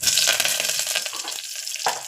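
Curry leaves crackle and sizzle in hot oil, a bright, hissing spatter that is loudest at first and gradually settles into a steadier fry, while making crab soup.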